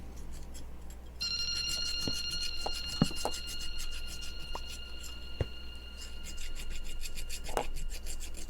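A Toyota pickup door bushing part is ground by hand against an abrasive, making a steady rasping scrape with irregular rotating strokes, close and continuous, with a faint ringing tone in the background.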